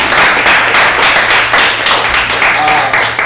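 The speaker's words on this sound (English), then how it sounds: "I cut it into your round of applause." A community benefits celebration crowd gives a round of applause, loud, dense and sustained clapping filling the room for the whole span.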